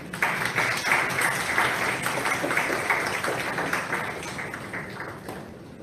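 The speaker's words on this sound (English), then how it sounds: "Please once again give a big round of applause." A round of applause from the audience at the inauguration of a cardio-diabetic society's medical conference, a steady crowd clapping that starts strong and gradually thins toward the end.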